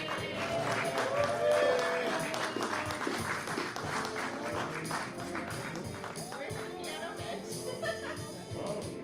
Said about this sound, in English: Everybody clap super loud.